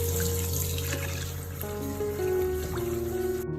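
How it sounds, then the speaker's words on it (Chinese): Tap water runs steadily over pork ribs being rinsed in a sink, a constant splashing trickle with occasional clinks and shifts as the meat is moved. "将所有的排骨全部冲洗一遍， 然后继续用清水冲洗一下就可以了。"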